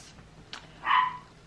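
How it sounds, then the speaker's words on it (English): Small dogs barking indoors, two short sharp yips followed by a louder single bark, close by and brief, with no talk over them. "Apologies if you can hear my dogs barking,"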